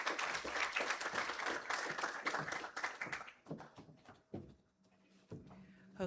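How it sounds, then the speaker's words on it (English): Applause from an audience at a school general orientation event, thanking a presenter: dense clapping for about three seconds that then breaks up into a few scattered claps against a quieter room. "Please give a hearty round of applause to Miss Carisha Larman for her presentation."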